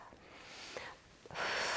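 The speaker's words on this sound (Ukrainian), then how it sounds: "Довгий видих." One long, slow, soft breath out during a breathing exercise, faint and close, swelling into a breathier rush near the end.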